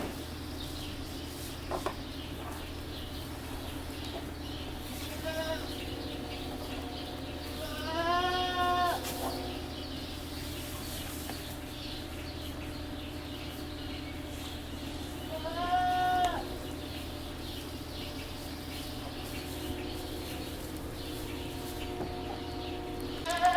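Goats bleat on a farm where horses are also kept, a few wavering calls at moderate distance rising over steady outdoor background noise, with long quiet stretches between them.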